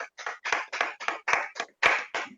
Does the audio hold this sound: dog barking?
no